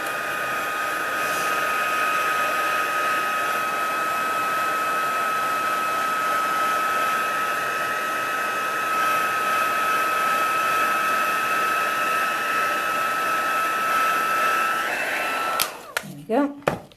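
Heat tool blowing on an inked card panel to set embossing powder, a steady, loud whirring hiss with a constant whine that runs for about fifteen seconds before clicking off, followed by brief handling noises.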